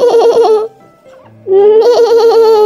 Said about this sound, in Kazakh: Бұл ешкі. Ешкі ме,